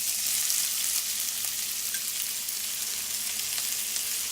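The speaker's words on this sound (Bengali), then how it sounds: "জিরেটা অল্প করে একটু ভেজে নেব। এবার আমি দিয়ে দেব পেঁয়াজ কুচিটা।" Whole cumin and chopped onion crackle in hot oil in a pan, a dense, even sizzle that holds steady throughout, close and fairly loud, with no one speaking.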